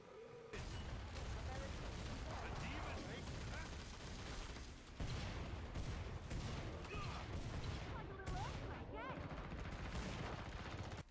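Rapid gunfire in the Killing Floor 2 video game, dense bursts of shots and impacts layered with game effects, steady and loud across the whole stretch.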